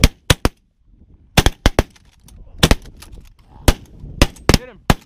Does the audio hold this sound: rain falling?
no